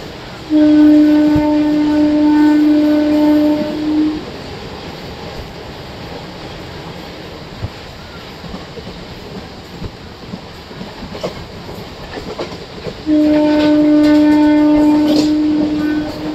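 Bhimavaram-Vijayawada MEMU train running at 100 km/h through Mandavalli station, heard from on board as a steady loud rumble with two long sustained horn blasts, one at the start and one near the end.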